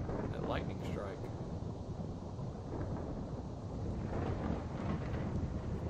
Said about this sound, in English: Ooh, that lightning strike.